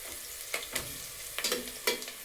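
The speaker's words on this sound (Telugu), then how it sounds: "తర్వాత టమాటా ముక్కలు, ఉల్లిపాయ వేగిపోయాయి." Tomato pieces and onion fry in a pan, with a steady sizzle broken by several sharp scrapes and clacks as a spoon stirs them, close up.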